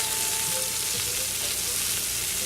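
Red peppers frying in a pan with onion, a dense, steady sizzle that holds unbroken and fairly loud throughout, close up with no voices.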